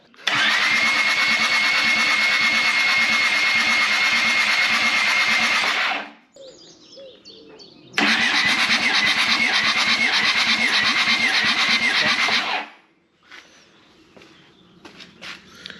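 A turbo diesel engine with its injectors removed cranks over for a compression check in two long, loud, even bursts of about six and five seconds, each ending abruptly, with quieter shop noise between them.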